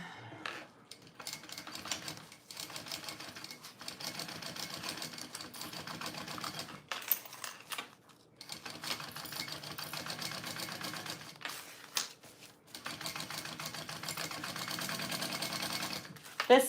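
A sewing machine stitches a small bowler bag in a rapid, steady mechanical chatter, running in long bursts broken by brief pauses, close and moderately loud.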